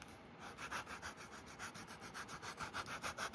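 Sanding the edge of a leather trifold wallet with 120 grit sandpaper, a soft, steady back-and-forth rubbing with an even rhythm of strokes, close and fairly quiet, no voices.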